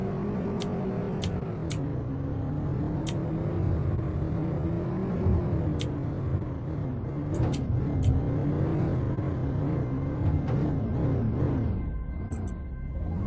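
Car driving in Final Fantasy XIV, a steady low engine rumble that rises and falls slightly as it moves, with several brief sharp clicks on top.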